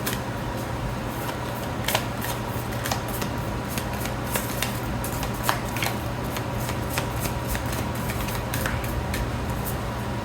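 Moonology oracle cards shuffled by hand, a steady dense rustle with occasional sharper card flicks and snaps over a constant low hum, no talking.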